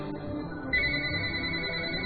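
A telephone rings with an incoming call, an electronic ringtone that sounds steady and fairly clear for a couple of seconds over a low background hum.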